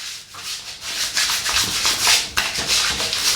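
Proraso green shaving soap lather rubbed onto a face for a safety razor shave, a close, continuous wet scrubbing with rhythmic strokes, heard alone.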